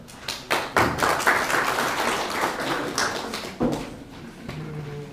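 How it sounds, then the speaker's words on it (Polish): An audience at a Małopolska heritage awards ceremony in the Nowy Sącz open-air museum gives the honored women warm applause, a close, dense wash of clapping with a few sharper bursts throughout. "Dlatego jeszcze raz gorąco brawa na Panie."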